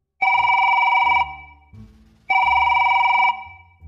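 A telephone rings in two long electronic bursts separated by a short gap, loud and close, with no voices over it, in an animated school drama.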